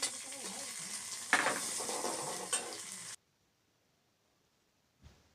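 Green chillies and onion sizzle in hot oil while being stirred in a pan, a close, crackling fry with scraping strokes that cuts off abruptly, followed by silence and one soft knock.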